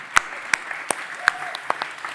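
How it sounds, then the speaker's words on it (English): Scattered clapping from an audience at a startup ecosystem event, a handful of distinct sharp claps spaced unevenly, fairly close, with thin background murmur between them. "we can keep clapping meanwhile"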